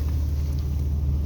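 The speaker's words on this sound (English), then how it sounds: "That Chevy Spark LT is all done and dusted. That's up and running." A Chevy Spark LT car runs at idle, giving a low, steady, quiet rumble that continues briefly with no voices.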